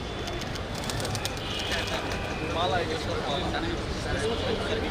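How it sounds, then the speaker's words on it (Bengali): Pigeons coo softly at a hospital building inauguration, under a constant background hum and murmuring crowd noise. "এই সেকশনে কবুতর আছে, খেয়াল করুন।"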